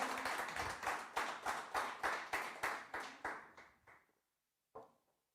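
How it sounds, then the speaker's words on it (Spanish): A church congregation claps in a steady, rhythmic beat of about a dozen loud, even bursts, fading toward the end, then a pause and one final lone clap. "¿Cuántos le pueden dar un aplauso al Señor?"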